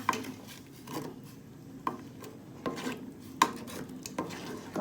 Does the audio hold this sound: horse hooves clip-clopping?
no